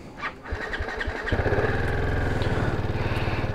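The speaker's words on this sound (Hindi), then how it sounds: "बाइक जो है ना वो सही स्टार्ट हो गई" Motorcycle on a tour in eastern Turkey starting up, a few sputtering cranks giving way to a steady, close, throbbing idle that runs loud and even to the end.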